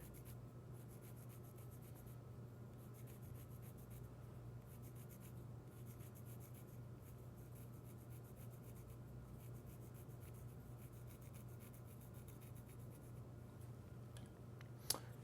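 Pencil lead rubbing against the rim of an end grain wooden box spinning on a lathe, a steady scratchy rasp held under the constant hum of the running lathe, with a sharp tap near the end.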